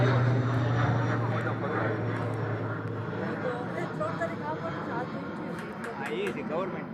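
Aircraft engine drone from a military-coloured helicopter-like craft passing low over a farm field, a steady broadband roar that holds throughout while people talk excitedly over it.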